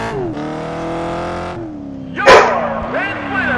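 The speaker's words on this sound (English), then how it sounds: "And that is my dog Gypsy barking" A pet dog barks in short bursts in the room while a racing video game's car engine drones and revs loudly and steadily underneath.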